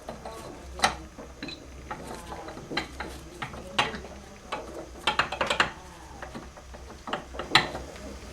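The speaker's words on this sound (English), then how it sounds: "now I'm going to put on the back gear" Back gear being fitted onto an Atlas 618 (Craftsman 101) lathe during restoration: repeated metallic clicks, clanks and ratcheting knocks from gears and parts, close and irregular over a quiet background hum.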